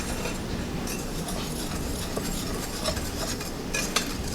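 A whisk stirs dry hot cocoa mix ingredients in a bowl, a continuous close scratchy swishing with occasional light clinks against the bowl.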